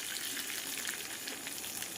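A hot tempering of oil and curry leaves sizzles and crackles continuously as it is poured over ripe red chilli chutney, a dense, even frying hiss heard up close.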